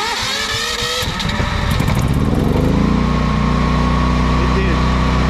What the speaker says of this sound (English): It started up on the first try on natural gas.